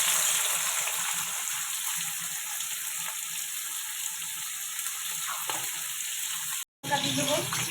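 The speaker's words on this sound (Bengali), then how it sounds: "এখানে পেঁয়াজগুলো ভেজে নেব" Onions fry in mustard oil in a pan, giving a continuous dense sizzle that stays loud and even, with a brief cut near the end.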